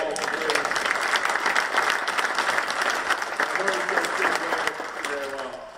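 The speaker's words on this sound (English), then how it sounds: "Can you give Bill Howell a round of applause?" An audience at an agriculture awards banquet in Virginia Beach breaks into dense, sustained applause, with a few voices mixed into the clapping.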